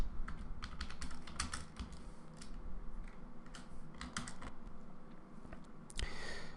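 Someone typing on a computer keyboard, a quiet run of irregular clicking keystrokes in short bursts, close by over a faint room hum, with no voices.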